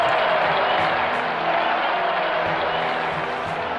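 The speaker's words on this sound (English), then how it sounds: "please give a warm round of applause for His Majesty Emperor Lothar" Crowd applause in the game Evoland 2, a dense continuous wash of clapping at steady volume for a few seconds with no speech over it.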